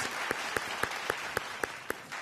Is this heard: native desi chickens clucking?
no